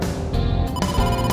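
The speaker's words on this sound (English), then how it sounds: "Date, it's a phone call." A telephone rings in the video game AI: The Somnium Files, a steady electronic ringing tone filling the short stretch, loud and close with no talking over it.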